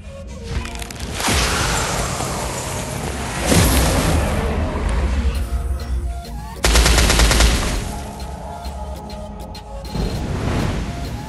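Rapid gunfire from a Blue Flame Draco gun skin in the video game Free Fire, loud bursts of automatic shots separated by brief pauses, with booming impacts in between.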